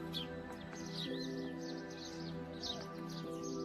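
Small birds chirp and trill at dawn around a mountain home facing a Himalayan peak, a steady layer of calls over a constant low hum.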